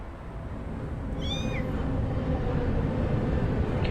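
A cat in the video game Anno Mutationem gives a single short meow, upward-gliding and fairly clear, over a steady low rumbling ambience.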